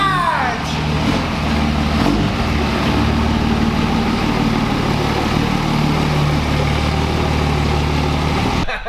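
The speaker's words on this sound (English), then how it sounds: "Bangul, look at this guy. Big Dodge" A big Dodge Mega Cab pickup with a 5.9 Cummins diesel engine idles nearby in a steady, loud, low rumble that holds without a break throughout.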